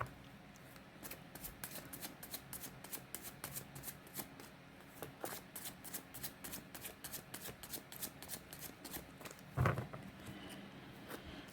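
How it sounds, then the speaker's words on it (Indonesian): Tarot cards shuffled by hand in a steady run of quick, crisp riffling taps lasting about eleven seconds, close up and fairly quiet, with one louder knock near the end. "saya baca doa dan saya kocok kartunya"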